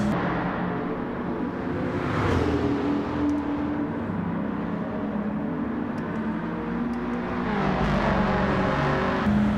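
A Dodge Viper's engine racing around a Tokyo circuit in a video game, a steady loud roar holding through long gears with gradual rises and falls in pitch, no voices.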